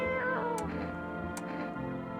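A cat meows twice in the horror game No, I'm Not A Human, each short cry clear and fairly close against a quiet ambient backdrop.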